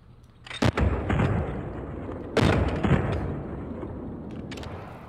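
Gunfire in the action game Uncharted 4, a couple of loud sharp shots each followed by rumbling, explosive-sounding blasts that fade slowly, with a few fainter pops near the end.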